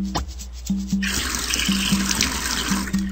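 Water pours as a plant is watered in a Nick Jr. browser game, a steady rushing stream like a running tap that starts after a second, while a repeating electronic beep tone plays underneath.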